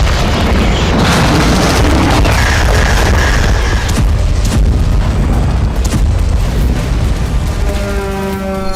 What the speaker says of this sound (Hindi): ये रूस के 500 किलो वजनी फाब 500 बम का हमला है।